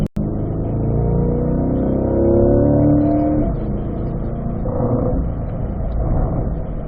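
A race car engine on a racetrack pulls hard through its gears, the revving rising in pitch and then shifting, loud and steady throughout with no voices.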